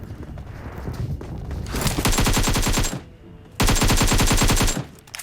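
Two long bursts of rapid automatic gunfire from PUBG Mobile, loud and close, separated by a brief pause.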